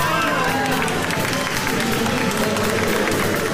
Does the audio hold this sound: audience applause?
yes